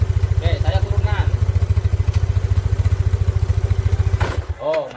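A Yamaha Mio scooter engine with a fault idles in a fast, even, close putter, then cuts out abruptly near the end and falls silent, followed by a brief voice.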